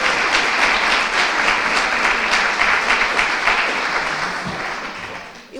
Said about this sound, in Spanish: un gran aplauso por el gran trabajo realizado por Tomás